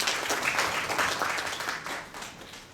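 Audience applauding at the close of a session at an architecture and urban forum, a dense steady wash of clapping that is loud at first and tapers off slightly toward the end.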